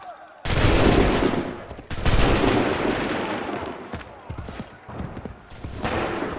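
Musket volleys crack out in Assassin's Creed 3, two big bursts of massed gunfire followed by scattered rolling shots and battlefield clatter, loud and close.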